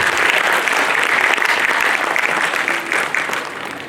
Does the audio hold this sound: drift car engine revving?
no